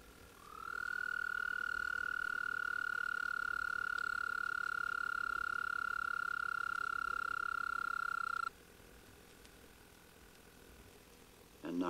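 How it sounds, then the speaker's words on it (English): Common toads give a steady, sustained high trill from the shallows on a warm evening, holding for several seconds, then cutting off, leaving faint background hiss. "the more melodious trills of the common toads start up from the shallows."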